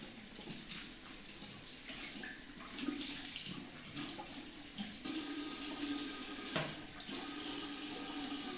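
Hot water runs steadily from a tap into a sink, a continuous splashing rush with small shifts in tone as the flow changes.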